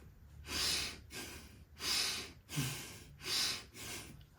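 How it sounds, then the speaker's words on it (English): Controlled, intensive breathing is demonstrated with deep forceful breaths, about five airy inhales and exhales in a steady rhythm, close and alone. "We breathe like this."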